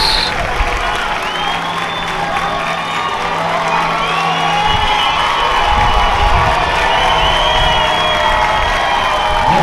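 A baseball crowd at an O'Connor game roars on its feet after a run scores, sustained cheering and shouting filling the whole stretch, loud and continuous with no clear commentary.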